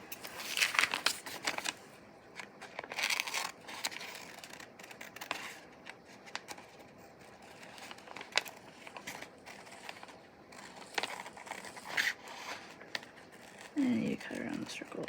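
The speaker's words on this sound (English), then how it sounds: "And then just take the scissors." Scissors snipping around paper circles for an outer-space art journal, a series of short crisp cuts and paper rustles spaced irregularly, close and quiet, with a person talking softly between the snips.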